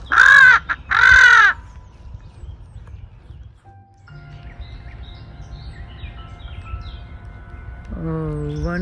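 A crow caws twice, loud and close, at the start of a spring morning scene with seagulls, followed by faint distant bird calls and low background hum, and a brief voice near the end.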